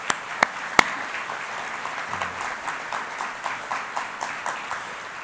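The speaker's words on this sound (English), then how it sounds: "If you'll join me in some applause." Conference audience applauding steadily, a dense wash of clapping with a few sharp claps up front, sustained throughout at moderate level.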